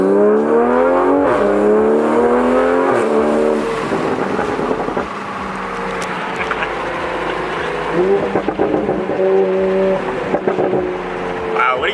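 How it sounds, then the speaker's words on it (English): Toyota Supra A90 with an AWE exhaust in sport mode, revved hard several times: loud rising and falling engine notes close by, ending in crackling pops, with brief talk between revs. "we'll hear the AWE exhaust"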